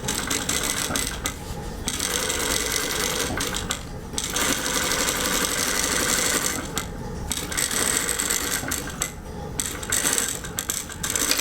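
A sewing machine running continuously to stitch the seam for an invisible zipper, a loud, close, rapid mechanical whir with brief pauses where it backstitches and restarts.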